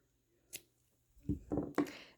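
Scissors cutting off a strip of material for a handmade model horse fly mask, a quiet single snip followed by a quick run of three crisp close snips.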